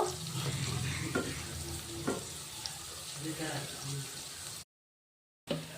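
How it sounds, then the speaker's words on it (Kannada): Green peas frying in oil in a pan while being stirred by hand, a soft steady sizzle with several scraping stir strokes, a voice talking at times, and a brief silent break near the end. "ಈಗ ನೋಡಿ ಬಟಾಣಿ ಎಲ್ಲ ಚೆನ್ನಾಗಿ ಫ್ರೈ ಆಗಿದೆ"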